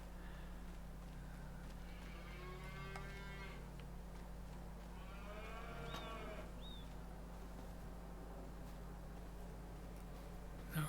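Cattle moo on a dairy and beef farm in Farming Simulator 25, with Holstein and Limousin cows, a few low, drawn-out calls rising over a constant steady hum, with faint hoof sounds and no talk.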